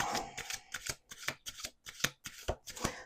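Tarot cards shuffled by hand: about nine quick papery riffle bursts in a steady rhythm, close and clear, with no voices.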